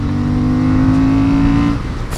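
Honda CB750 Hornet motorcycle engine pulling hard under acceleration, a loud, close steady drone holding one tone for nearly two seconds before easing off, with no speech.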